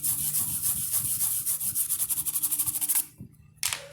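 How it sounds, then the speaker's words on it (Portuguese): A circuit board is scrubbed clean with isopropyl alcohol, making close, rapid back-and-forth brushing strokes in a quick rhythmic series that stop abruptly near the end. "faz isso aqui, a limpeza da placa, para tirar os resíduos de pasta de solda e da solda derretida"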